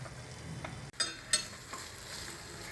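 Cooked dal and rice are stirred into melted jaggery for payasam, a brief, quiet sizzle with a couple of sharp spoon scrapes against the pan.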